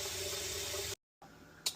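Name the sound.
water filling a large pot from the tap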